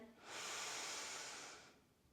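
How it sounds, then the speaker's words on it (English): One deep inhalation during a steel mace exercise, a single close airy hiss that swells, holds for about a second and fades out alone. "Breathe in."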